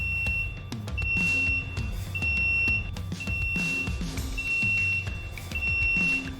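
The buzzer of an Okay Energy BD888 three-way catalytic converter machine beeps in short, high tones, repeating in a steady pattern of bursts over a low mechanical hum.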